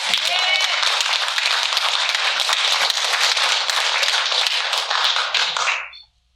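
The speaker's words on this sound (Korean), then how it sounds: "우리 우렁찬 박수로 한번 응원하겠습니다" A Korean church congregation gives loud applause during a Sunday service to cheer on an ailing member. Dense, vigorous clapping fills the room for about six seconds, then stops abruptly.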